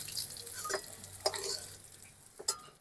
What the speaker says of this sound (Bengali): আমি এই তেলের ভিতরে বেগুনগুলো ভেজে নেব।